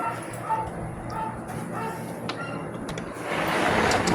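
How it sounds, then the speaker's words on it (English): A dog barks in short repeated yips broken by desperate, whining whimpers, fairly close and loud, with a person's voice talking over part of it. "the way it barks, it's like a desperate cry, a desperate whine"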